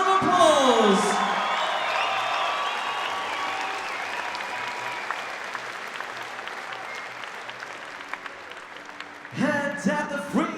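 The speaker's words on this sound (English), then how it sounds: "give both these ladies a huge round of applause" A crowd at a Shock n Awe 15 fight event applauds and cheers for two female fighters awaiting the judges' decision, a dense, steady roar of clapping with scattered whoops that slowly thins before a voice booms back in near the end.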